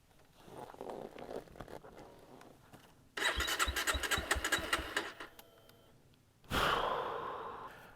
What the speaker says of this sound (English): let's try to start the bike and see what happens